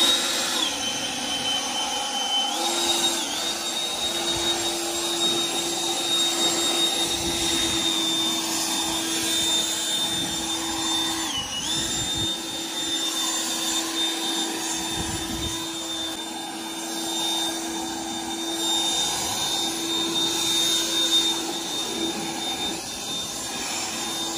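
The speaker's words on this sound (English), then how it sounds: "If you have any kind of a leaf blower, use that." A leaf blower roars steadily while blow-drying a 2020 Ford Explorer ST during a clear bra install. The whine is loud and continuous, close by, and runs alone throughout with only slight swells.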